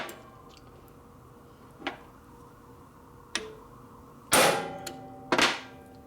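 Hammer strikes on the crankshaft of a 1976 Harley-Davidson Sportster XLCH engine being rebuilt, with two light taps, then two loud, ringing metallic clangs near the end, close by.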